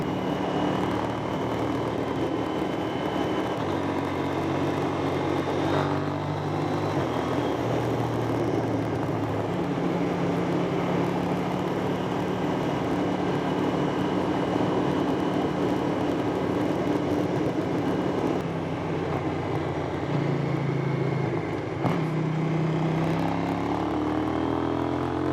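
A KTM 790 Duke motorcycle riding on a road, its engine droning steadily and close with wind rush, pitch steps marking several quick-shifter gear changes through the run.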